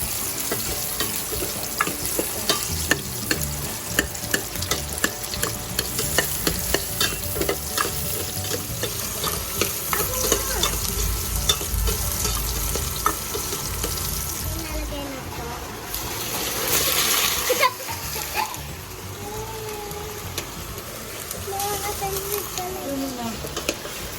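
Garlic and onion sautéing in a pan, a steady close sizzle with scraping and clattering stirring strokes throughout, while people talk over it.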